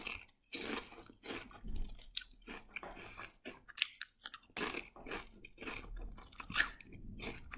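Lay's Green Onion potato crisps crunched and chewed up close, loud repeated crisp bites and chewing with brief pauses, no talking.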